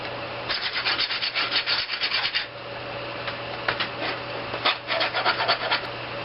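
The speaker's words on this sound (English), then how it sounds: "Get all these burrs off of here." Steel pieces being deburred before welding for a homemade two-seater go-kart rear end: bursts of harsh scraping and rubbing strokes, close and loud, in uneven clusters with brief pauses between.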